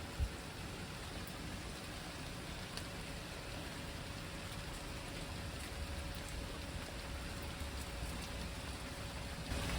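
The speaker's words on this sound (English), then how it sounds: "it had been raining for about 2 or 3 hours" Rain falls steadily outdoors near a jeep on a motorcycle trail in France, a constant soft broadband hiss with no breaks and occasional faint drips.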